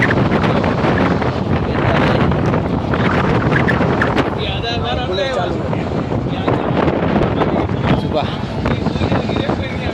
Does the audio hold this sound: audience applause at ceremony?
no